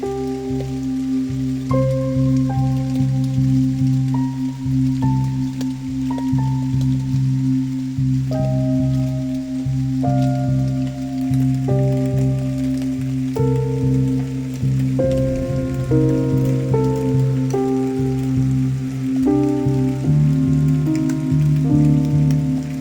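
Steady, heavy rain hisses throughout, with a slow melodic sequence of sustained tones layered over it.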